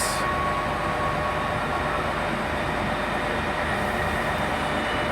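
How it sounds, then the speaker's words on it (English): A pair of coupled class 158 diesel units departing a platform at Bristol Temple Meads, a steady loud rumble and hum that carries through the whole stretch with no voices over it. "this is the 1824 service from Taunton to Cardiff Central, formed of a pairing of class 158 units."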